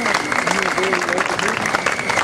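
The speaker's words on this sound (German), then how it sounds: "da ist dein Publikum, empfangt sie mit Applaus" Audience applause welcoming a speaker at an indoor political event in Berlin, steady and dense for the whole stretch, with a few voices calling out beneath the clapping.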